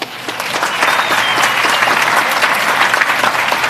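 Audience applause at an evening awards ceremony at Gracie Mansion, a dense steady clapping from a crowd that holds for the full stretch.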